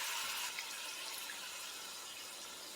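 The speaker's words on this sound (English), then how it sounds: "we're going to add a half a cup of water." Half a cup of water poured into a skillet of fideo pasta with chicken, a steady hissing splash of liquid running continuously and close up, with no talking.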